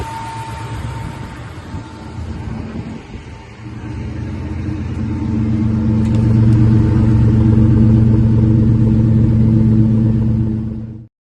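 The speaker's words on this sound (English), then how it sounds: "here you'll see a little video of the car running" A 2001 Ford Mustang Bullitt's engine runs steadily close by, a deep continuous rumble that swells louder in the second half before cutting off abruptly.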